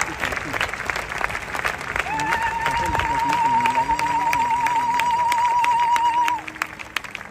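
A crowd claps and cheers at a graveside burial ceremony in praise of the Lord, with dense sustained applause under a sung melodic line, loud and continuous before tapering near the end.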